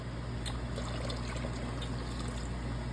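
Water poured from a container into a pot while cooking a Mississippi pot roast, a steady close trickling stream running continuously without a break.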